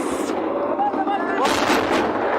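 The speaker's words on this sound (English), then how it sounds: "We can now hear the artillery coming in right behind him." Incoming artillery fire in Ukraine war footage near Lyman, heard as a rumbling, crackling barrage that swells in the second half, with a voice talking faintly beneath.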